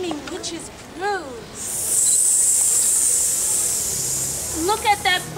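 Steady hiss of steam from a witch's brew prop at a college Halloween haunted house, a loud continuous hiss lasting a few seconds, with speech before and after.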